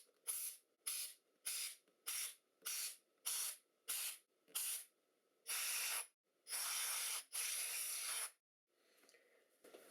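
Compressed air sprayed across a GPU's fan and circuit board during cleaning: a run of eight short, regular hissing bursts, then three longer sustained blasts, loud and close, followed by a fainter trailing hiss.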